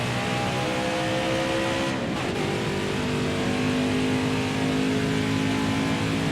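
A race car engine in the NASCAR Heat 4 racing game at Auto Club roars loudly and steadily throughout, with the pitch dipping and climbing again around the two-second mark as the revs shift.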